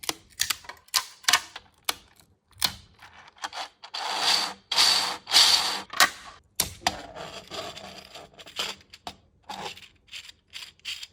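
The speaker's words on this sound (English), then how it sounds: "Let's make a double planet gear using 3D printer." A 3D printer working on a double planet gear makes rhythmic mechanical bursts, clicking and scraping nearby, with a longer whirring run in the middle and no voices.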